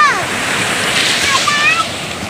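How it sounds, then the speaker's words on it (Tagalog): Ocean surf rushes steadily near the shore at a beach in Tolosa, with broad washing noise and wind buffeting the microphone, while faint high calls or voices sound briefly over it. "alon"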